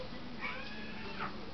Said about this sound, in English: He'll probably be a great lap cat and will just want lots and lots of attention